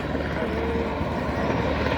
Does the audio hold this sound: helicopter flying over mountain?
yes